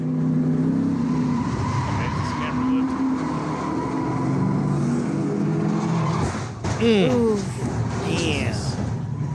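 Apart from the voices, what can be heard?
race cars spinning and piling up on track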